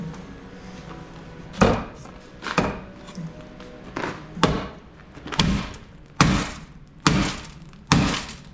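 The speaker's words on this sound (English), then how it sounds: "You can hear all the glass just popping around in there." Broken glass shards tumbling inside a trail-damaged off-road vehicle, about eight sharp clattering thunks at roughly one-second intervals, close and loud with quiet gaps between.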